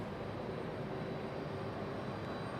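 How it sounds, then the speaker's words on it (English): A JetBlue Airbus A320 takes off at Raleigh-Durham International Airport, heard as a steady, broadband jet engine roar that holds level throughout without a break. "this one that just took off was JetBlue 2929 and A320 headed to San Juan"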